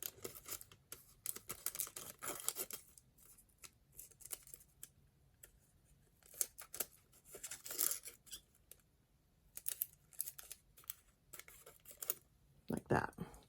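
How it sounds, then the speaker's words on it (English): Scissors snip strips into a sheet of Angelina fusible film, cutting partway down and stopping, giving sharp crisp cuts in irregular bursts with light crinkling between. "you can just cut strips down to a certain point and stop so that you still have the main portion together"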